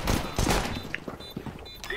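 Gunfire in CS:GO matchmaking: a burst of loud rifle shots in quick succession, dense at first and then more scattered, with a voice talking over the shooting.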